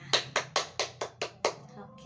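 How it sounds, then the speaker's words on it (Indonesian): A class of students claps in unison, about seven sharp evenly spaced claps in a steady rhythm, close and clear, with faint room voices underneath. "Oke, tepuk tangan untuk kita semua."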